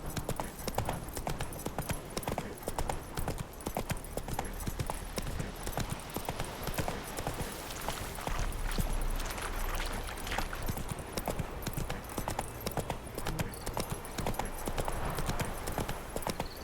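Horse hooves clip-clop steadily at a walking pace in The Witcher 3, a constant rhythmic patter over game ambience, with faint talk at times.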